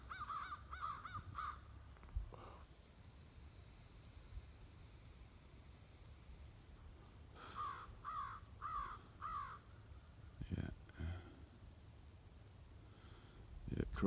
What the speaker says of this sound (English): Yeah, crows are my favorite bird.